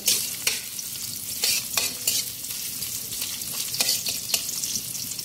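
Garlic, ginger and onion sizzle in a hot pan while a spatula stirs and scrapes them in repeated strokes, with a bright crackling fry running continuously underneath.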